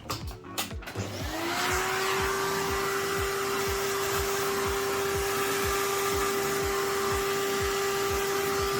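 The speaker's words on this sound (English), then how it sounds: "I do want to vacuum the underside of the fan" A vacuum cleaner whirs to life with a rising whine, then runs steadily and loudly up close with a strong pulsing hum, cleaning dust from a laptop fan.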